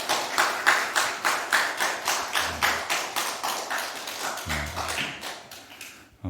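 A church congregation at a Sunday worship service claps in steady rhythmic unison to welcome a guest, with about twenty even claps that are fairly close and loud and stop abruptly near the end.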